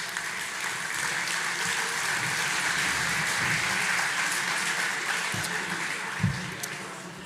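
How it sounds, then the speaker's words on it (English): A crowd at the 2025 Republican Party of Wisconsin State Convention in Wausau applauds, a steady, somewhat distant hall-wide clapping that holds evenly throughout with a few louder thumps near the end. "Let's have another hand clap for all these great patriots we had this morning."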